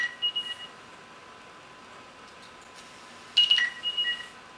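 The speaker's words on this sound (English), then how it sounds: "we've successfully rang your phone" A Nokia Lumia phone rings remotely through Find My Phone, a quiet electronic ringtone of short beeping tones that plays briefly, pauses, then returns louder, heard alone in a quiet room.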